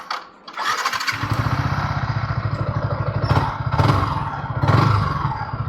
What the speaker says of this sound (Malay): Cuba motor kau on.